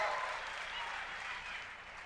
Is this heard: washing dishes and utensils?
no